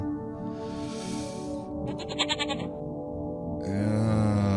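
Several loud, wavering bleats from a goat in the surreal puzzle game Rusty Lake Paradise, strong and up close, with an electronic tonal flourish between calls.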